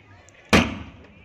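A paper shot firecracker goes off at an outdoor engagement celebration with one sharp, loud bang that decays into a brief crackling tail over quiet background.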